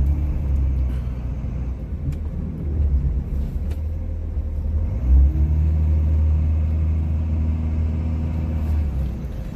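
Steady low diesel rumble from a Cummins-powered Ram pickup plowing light snow, the engine not yet fully warmed, droning continuously close by with a slight swell in revs midway and no talk.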